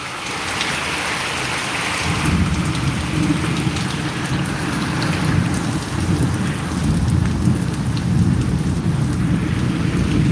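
A heavy May rainstorm pours down steadily with rumbling thunder underneath, a loud, continuous wash of rain that swells after the first couple of seconds and carries on without any voices.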